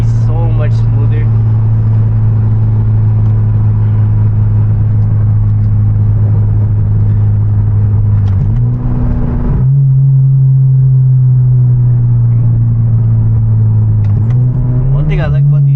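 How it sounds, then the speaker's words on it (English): Hyundai Genesis Coupe with a manual gearbox and an essentially straight-piped exhaust drones steadily and loudly while driving, its low tone stepping up in pitch near the middle and again toward the end as it shifts or revs. "their droning isn't that bad, even though this is basically just a straight pipe"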